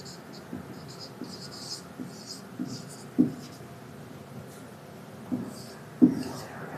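A pen writes equations by hand on paper in a lesson on lines and planes, giving soft scratchy strokes with a few sharper taps at steady intervals, close and quiet.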